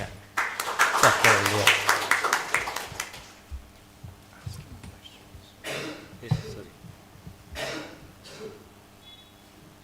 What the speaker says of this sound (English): Let us give big applause to